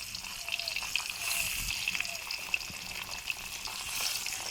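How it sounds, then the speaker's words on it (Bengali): Aair fish frying in a pan, a steady close sizzle and spatter with a few stirring scrapes and bursts of hissing, no talk over it. "প্রথমে আমি আইড় মাছটা ভেজে নিচ্ছি।"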